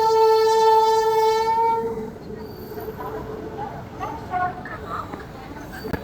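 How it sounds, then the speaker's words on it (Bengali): At Bardhaman railway station, a train horn blares loudly for about two seconds, then passing trains rumble and clatter while people talk nearby. "দুদিকে ট্রেন যাচ্ছে ভাই"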